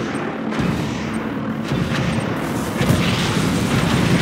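A Command & Conquer 3 Kane's Wrath battle keeps up continuous artillery booms and gunfire, dense and loud throughout, with brief crackling bursts layered over a heavy low rumble.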